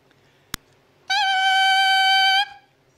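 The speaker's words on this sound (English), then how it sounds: "this mouthpiece and this reed, if you play it without the saxophone," A tenor saxophone mouthpiece and reed blown on their own, without the horn, producing a single loud, shrill, buzzing squeal of about a second and a half after a short click.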